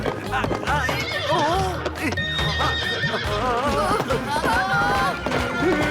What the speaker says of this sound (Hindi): अरे हट जाओ सामने से, ये घोड़ा रुक नहीं रहा है।